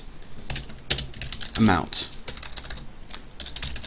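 Rapid, irregular clicking of keys on a computer keyboard during Java programming, close and clear, with a brief spoken word partway through and a few louder key presses.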